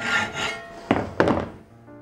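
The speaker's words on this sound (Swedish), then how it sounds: "Ta sedan fram bågfilen och börja såga." A few close, rasping hacksaw strokes push back and forth on flat steel bar, the later strokes sharper and shorter.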